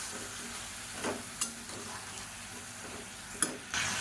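Mixed vegetables sautéing in oil for a kuzhambu, a quiet steady sizzle with a few sparse spatula scrapes and a sharper tap near the end, close by and with no one talking.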